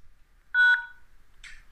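A touch-tone telephone keypad pressed for a phone-in message recording system, one clear, loud dialing tone lasting a quarter second, followed by a short faint rustle.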